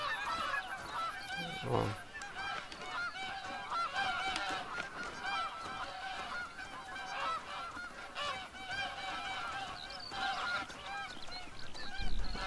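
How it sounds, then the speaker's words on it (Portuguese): A flock of Canada geese in the hunting game theHunter: Call of the Wild keeps up a chorus of honks, with overlapping repeated calls at moderate loudness throughout. "os gansos continuam chegando"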